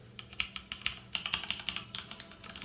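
Fingers type on a HyperX Alloy FPS Pro keyboard with Cherry MX Red linear switches, giving quick, close clacks in uneven bursts, with a few heavier strokes standing out and no voices.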